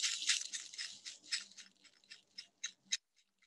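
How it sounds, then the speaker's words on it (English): A handheld shaker is shaken softly, giving a series of gentle, hissy rattling bursts in an uneven rhythm that fade and thin out toward the end, heard close and alone. "I'm going to shake it softly."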